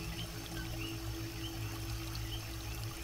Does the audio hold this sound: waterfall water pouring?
yes